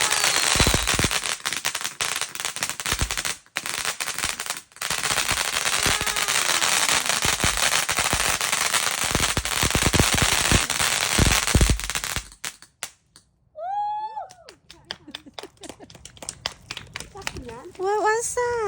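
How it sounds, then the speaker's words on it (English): Fireworks going off on bonfire night make a dense, loud barrage of crackling bursts for about twelve seconds, then stop abruptly while people talk and a child vocalises. "Are we ready for our first firework?"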